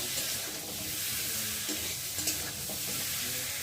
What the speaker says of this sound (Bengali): আমি এখন তরকারিটাকে ভালো করে কষিয়ে নেব